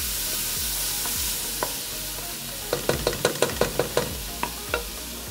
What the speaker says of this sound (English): Onions, leek, and garlic all go in together.